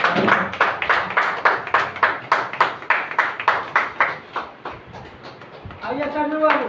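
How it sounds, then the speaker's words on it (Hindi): An audience claps in a steady, rhythmic unison beat of about fifteen claps, then the clapping fades and a voice speaks over a stage gathering of Nawada, Bihar leaders. "ताली बजाते"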